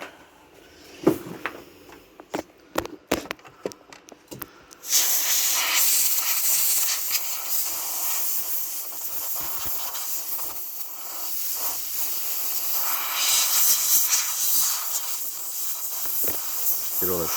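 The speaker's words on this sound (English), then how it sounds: "bit of air in a can" Compressed air from a can blowing dust off an MSI GPU, preceded by a few sharp clicks and taps, then a loud continuous close hiss of spraying air lasting over ten seconds with slight surges.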